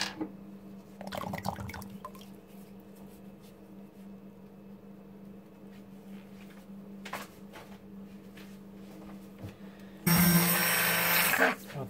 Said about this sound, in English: now I'm gonna have to stick blend it at least a little bit more.